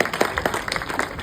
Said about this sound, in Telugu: చప్పట్లు కొట్టచ్చు.